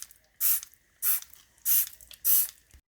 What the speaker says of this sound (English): here is our spray bottle that we are gonna spray it with